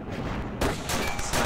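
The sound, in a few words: sniper rifle gunfire in the video game Cortex Command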